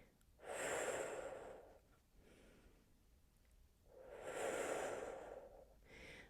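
Slow, deep breathing during a pilates exercise: two long airy inhale-exhale cycles, close and soft, with a quieter breath between them and no talking.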